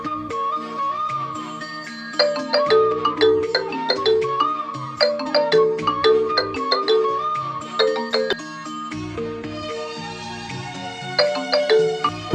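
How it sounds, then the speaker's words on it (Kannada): A phone rings during a call in a Kannada short film, playing a steady, bright chiming ringtone melody that repeats for the whole stretch, loud and close with no talking. "ಕೃಷ್ಣ ಫೋನ್ ಹಚ್ಚನ."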